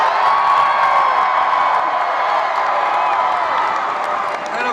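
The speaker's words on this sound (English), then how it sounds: "This is a large crowd, a raucous crowd." A large, raucous crowd roars and cheers without letup at a Bernie Sanders rally in the Washington Avenue Armory in Albany, NY, a dense wash of shouting voices and scattered clapping that holds loud throughout.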